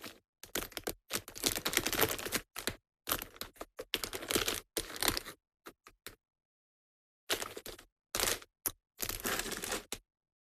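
Card blank sized 8x8 being trimmed down by hand, a run of crisp, close cutting and sliding bursts in uneven clusters with brief silent gaps between them, no talking.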